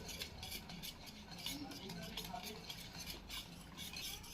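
Rava dosa batter is stirred and mixed by hand in a bowl to break up lumps, making soft repeated wet swishing and faint clinking, close and quiet, continuing steadily with no speech.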